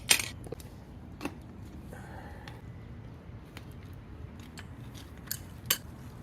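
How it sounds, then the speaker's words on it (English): A screwdriver pries a shock mount piece off a Porsche, giving a few sharp metallic clicks and snaps spaced irregularly over quiet workshop background, close to the mic. "Just take a screwdriver, pry that one off."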